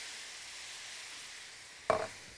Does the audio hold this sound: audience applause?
no